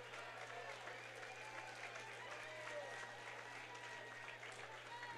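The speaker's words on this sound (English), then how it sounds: "how about a round of applause for these two great fighters?" Crowd applause at a K Series III kickboxing event after the Erling Collaro vs. Valentin Didik fight, a steady, moderately loud wash of clapping with cheering and a faint voice mixed in over a low electrical hum.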